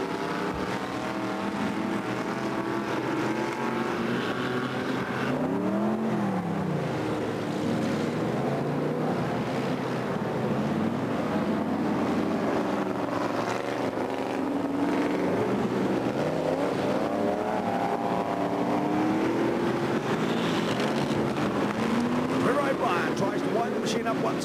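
Stock car engines roar continuously on a racing circuit at the 1989 HB stockcar championship, with revving pitch sweeps as cars pass, loud and steady throughout, under a commentator's voice.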